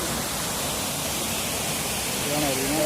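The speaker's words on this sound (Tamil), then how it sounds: "கேரளாவில் இருக்கிற மிகப்பெரிய அருவியில் இதுவும் ஒன்று." Palaruvi waterfall in Kerala, a roughly 300-foot falls, roars as a steady broadband wash of rushing water that fills the whole stretch, loud and constant, with a faint voice surfacing near the end.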